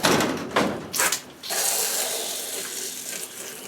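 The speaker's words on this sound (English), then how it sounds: "turn my water on first." A kitchen or garden tap is turned on and water gushes steadily for several seconds, close and loud, for wetting a homemade seed starting mix of coconut fiber and perlite, after a couple of brief knocks at the start.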